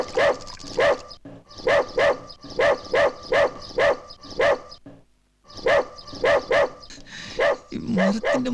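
A dog barks in quick repeated bursts, loud and close, with a short pause before another run of barks and a brief whimpering note near the end.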